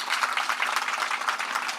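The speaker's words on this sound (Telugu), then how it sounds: "కొడదామా చప్పట్ల యేసుక్రీస్తుకి." Church congregation applauding together, a dense, even burst of many hands clapping for under two seconds, close and steady.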